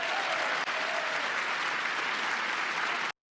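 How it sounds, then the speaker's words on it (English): Steady, dense applause from a political audience of Republicans, loud and continuous for about three seconds before cutting off abruptly. "you have Republicans clapping for Doge"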